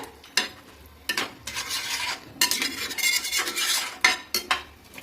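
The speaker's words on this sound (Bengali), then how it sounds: "তো এবার দিয়ে দিচ্ছি এর ভেতরে আলুগুলো" Potatoes, boiled and then fried, are tipped into a pan and stirred with a metal utensil, giving loud irregular scrapes and clanks against the pan over a soft sizzle.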